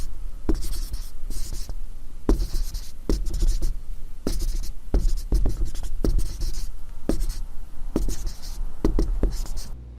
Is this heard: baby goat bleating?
no